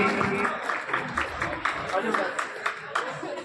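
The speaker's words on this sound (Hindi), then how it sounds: "जोरदार तालियों से इसका स्वागत कीजिए।" At a school prize ceremony in Sujangarh, an audience claps in a loose, steady patter of individual handclaps, moderately close, with a voice speaking over it.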